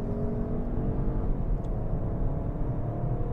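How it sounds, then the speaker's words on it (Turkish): A 2022 Peugeot 308 GT with the 1.2 PureTech engine and EAT8 automatic gearbox accelerates in traffic, a steady low engine hum and road rumble heard from inside the cabin. "Motorun sesi de gayet sportif duyduğunuz gibi."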